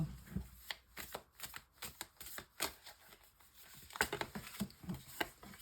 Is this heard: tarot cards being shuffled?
yes